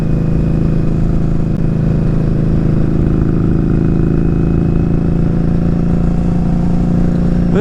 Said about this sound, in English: This is why I like motorcycling.